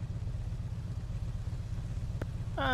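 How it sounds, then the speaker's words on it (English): A motorcycle engine idles with a steady low throbbing rumble, fairly close and unbroken, with a brief click near the end and a faint high tonal sound at the close. "You wanna turn the engine off"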